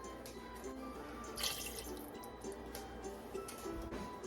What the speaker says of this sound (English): But today I'm just going to be adding water